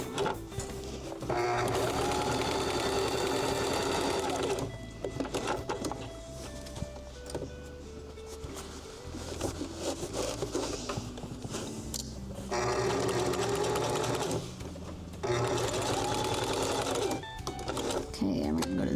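A sewing machine runs a straight stitch in loud, close bursts of steady whirring, with several stops and starts between them. A person talks during the quieter gaps.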